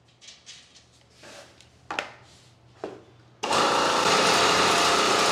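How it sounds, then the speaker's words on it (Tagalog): A pelletizer machine starts up during a test run after a few scattered knocks and clatters. It then runs as a loud, steady, close-up grinding whir to the end. "Testingin muna po natin tong pelletizer machine po ninyo."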